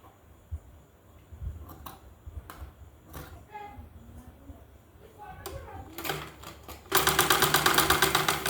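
A sewing machine stitches blouse fabric in a fast, steady burst of rapid needle clatter near the end, loud and close, after a stretch of quiet talk and light handling noise.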